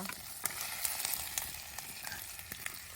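An egg fries in a pan for a quick, spicy egg dish, giving a steady close sizzle and crackle with small pops scattered throughout and no talking.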